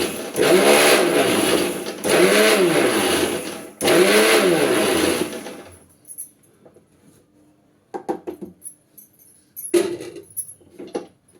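An electric mixer grinder whirs loudly through three bursts while grinding dry coconut, curry leaves and red chillies into a powder. The bursts are separated by short pauses and followed by quieter knocks and handling sounds.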